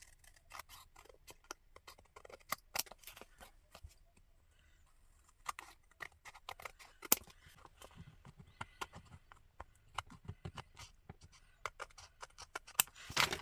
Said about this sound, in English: Now I'm just going to grab my scissors and trim.